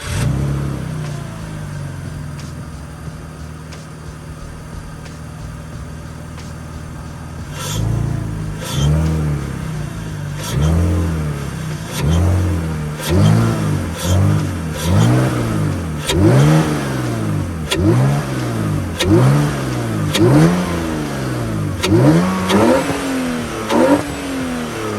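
A BMW E46 with the M54 engine and a K&N cold air intake revs repeatedly, a steady idle giving way to a series of sharp throttle blips that rise and fall in quick succession, loud and close.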